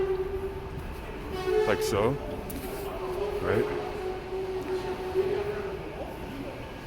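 Steady interior rumble of a moving Washington D.C. Metro train with a sustained hum; a voice speaks briefly over the ride noise.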